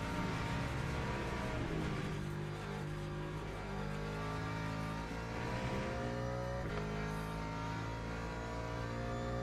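A Ferrari F12 engine in a racing video game drones steadily at high revs with smooth harmonic tone, shifting pitch around gear changes, continuous and alone.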